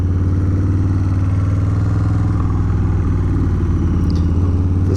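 A Harley-Davidson Softail Slim with a narrow rear tire rumbling steadily at close range, its deep low engine throb continuous and loud throughout, with no talking.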